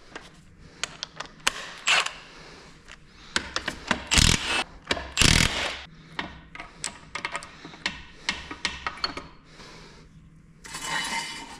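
A ratchet working on the bearing cap bolts of a GM 14-bolt full-float 10.5 differential, with sharp clicking bursts and clunks scattered across a quiet shop, close and intermittent.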